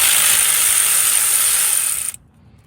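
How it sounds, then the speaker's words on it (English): Electric ratchet on an extension spinning out a starter bolt on a Honda Del Sol, a close, continuous high-pitched whirring buzz for about two seconds that stops abruptly. "got an electrical ratchet and an extension all the way to the bolt right there"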